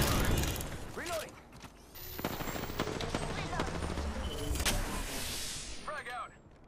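Weapon reloading in the battle-royale shooter Apex Legends, with mechanical clicks and clacks of the magazine being swapped amid scattered gunfire and in-game voice callouts.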